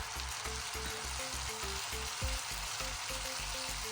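Soya chunks sizzle steadily in a pan with Schezwan and tomato sauce, a constant bright frying hiss with soft rhythmic stirring thumps underneath, close and alone.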